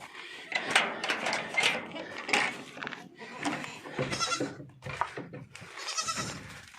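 Several goats, a large adult among them, bleat repeatedly in short, loud, close calls that come in quick bursts and overlap one another.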